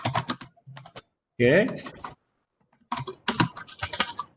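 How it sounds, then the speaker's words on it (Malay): Someone types energetically on a computer keyboard in quick bursts of close, crisp key clicks, with a brief gap in the middle and a short spoken word at one point. "ada yang tengah menaip tu"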